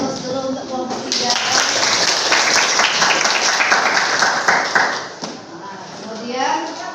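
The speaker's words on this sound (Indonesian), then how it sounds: "Beri aplaus dulu untuk kelompok 3." Applause for a student group in a classroom, a sustained burst of clapping from many hands lasting several seconds with voices speaking over it before it dies away.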